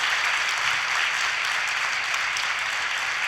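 Steady applause rises from the audience at the close of a wellness session in Pune, an even, continuous patter of many hands without any talking.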